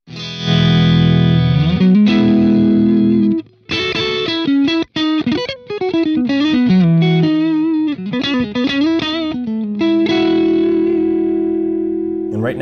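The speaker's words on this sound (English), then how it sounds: "let's take a listen to the clean channel." Electric guitar through a Friedman BE-100 amp plugin on its clean channel in the brightest mode, playing sustained chords and quick picked phrases with effects, loud and close, with brief gaps between passages.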